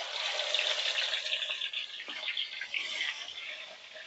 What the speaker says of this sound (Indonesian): Kita goreng dulu yang besar ni.